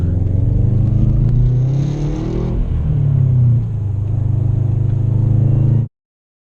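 A 2013 Subaru WRX engine revs hard while attempting a burnout, close and loud, the pitch climbing, dipping and holding in a sustained roar before cutting off abruptly near the end.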